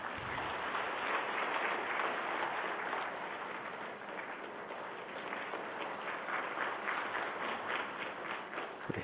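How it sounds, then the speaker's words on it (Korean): A church congregation at a special Lent early-morning prayer service applauds warmly, a dense, even clapping from many hands that carries on steadily without talk. "우리 뜨거운 박수로 축하하죠."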